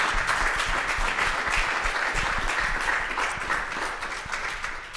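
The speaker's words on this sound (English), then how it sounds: "Let's give him one more round of applause." Sustained audience applause for a speaker at a university lecture series event, a full room clapping densely and evenly at moderate volume with no talking.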